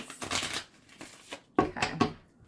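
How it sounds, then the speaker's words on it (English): Decks of playing cards being shuffled in quick riffling bursts, two clusters of crisp fluttering card noise close to the listener, with short pauses between them. "let me give these decks a quick shuffle"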